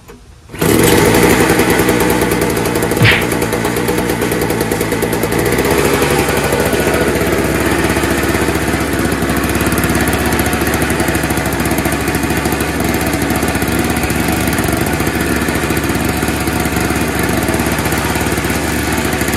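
A snowblower engine that sat three years in a shed on old gas catches almost at once, then keeps running with a loud, steady, close drone for the rest of the time.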